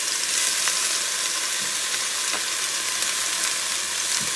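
Sofrito sizzling in a pot as the base for Puerto Rican carne guisada beef stew, a steady broadband frying hiss with faint stirring clicks, close and alone.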